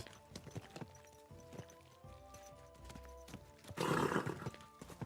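Horse hooves clip-clop in an even rhythm in Kingdom Come Deliverance II, followed by a loud, close whinny near the end, with a faint voice nearby.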